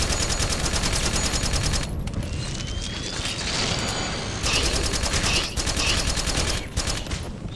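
Dense in-game gunfire from Metal Gear Solid 4, continuous bursts of shots and booms with mechanical clatter from weapon reloading, loud and close throughout with brief lulls.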